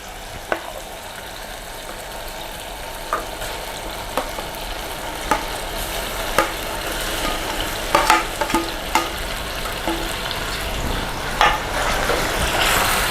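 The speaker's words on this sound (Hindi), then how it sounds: "मसाले के साथ भूनेंगे" Eggplant bharta frying with softened tomato and spices in a hing-flavoured dish, a steady broad sizzle broken by sharp spatula scrapes and clicks against the pan every second or two, close and fairly loud.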